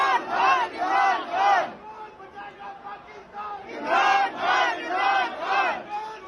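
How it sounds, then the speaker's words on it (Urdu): A large stadium crowd chants a political slogan in rhythmic unison, with two loud waves of three-beat shouts separated by a quieter lull of murmuring, heard from within the crowd. "لیکن قیدی نمبر 804 کے نعرے وہاں پر لگتے رہے"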